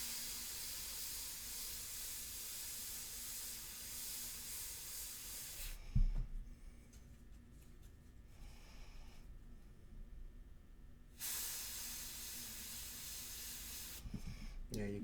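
An airbrush sprays ink onto a portrait painting, a steady airy hiss that stops for a few seconds with soft handling noise, then resumes briefly, close and moderate in level.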